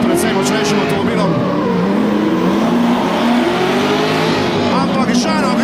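Drift cars race at a Driftstars round in Logatec, engines revving hard and tires squealing in a continuous loud roar, with a commentator talking over the noise throughout.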